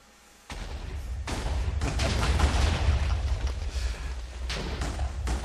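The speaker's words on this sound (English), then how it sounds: "Man, I love explosions." Continuous rumbling explosion blasts and crackling bursts in Minecraft roll on after a sudden onset, loud and dense with no talk over them.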